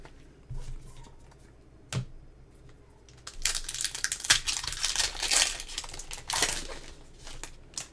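Pokémon card packs being ripped open at a table, a dense run of crinkly foil tearing and crumpling noises that builds in the second half, with a few sharper crackles early on and no talking.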